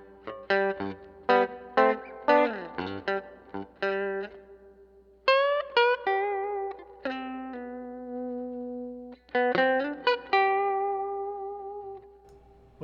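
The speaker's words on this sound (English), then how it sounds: "I'm gonna go back to spring reverb too. And make it a little more dry." Electric guitar played through an amp with spring reverb, a dry-leaning tone picking short melodic phrases and sustained notes that ring out with a soft reverb tail between pauses.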